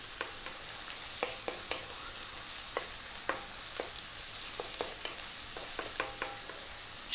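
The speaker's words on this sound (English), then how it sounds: "We're going to drop in our onion and our chopped garlic. We're on quite a high heat" Chopped garlic and onion fry on high heat for tom yum mushroom soup, a continuous loud sizzle punctuated by frequent sharp clicks of a utensil stirring the pot, with no one speaking.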